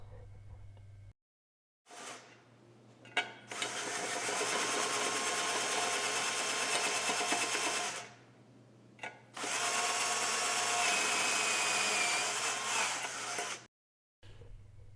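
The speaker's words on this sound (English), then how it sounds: "drill your 1/4 inch hole for the pilot on the hole saw" A power drill with a center drill bores a 1/4 inch pilot hole into a metal fuel tank, whining steadily through two long bursts, starting and stopping with short pauses between, loud and close.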